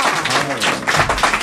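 A French television studio audience breaks into brief applause, a loud, close burst of clapping with thumping taps, mixed with some voice sounds.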